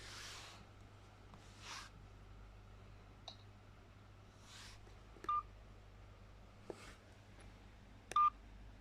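Several short keypad beeps from mobile phones being unlocked, scattered singly across a quiet room with soft rustling and handling noises between them, close and clear.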